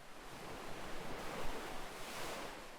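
Ocean waves roll steadily onto a beach in a broad, continuous wash of surf, slow and even, with no voices present.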